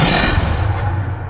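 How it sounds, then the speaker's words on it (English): A Depulso spell cast in Hogwarts Legacy, a loud whooshing burst with a heavy low rumble that trails off over about a second. "Depulse!"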